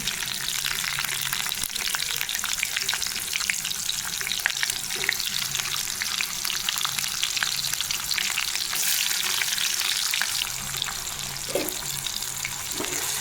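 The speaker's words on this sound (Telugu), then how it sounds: "ఈ ఉల్లిగడ్డ ముక్కలు కొంచెం వేగాలండి దోరగా దోరగా మీడియం వేగినాయండి" Onion pieces frying with cumin, mustard seeds, chana dal and urad dal for a dry fish curry, a steady crackling sizzle with scattered pops and spatula knocks, close up, no voices.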